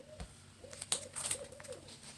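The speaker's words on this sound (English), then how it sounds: "There's an owl hooting in the tree." A distant owl calls from a tree beyond an open window, with soft repeated hoots. A few sharper nearby clicks and a brief high chirp stand out over a faint background hum.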